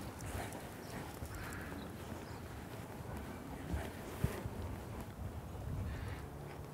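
Hoofbeats of a horse being ridden through rollback training, a steady clip-clop of hooves on the ground at close range with no talking over them.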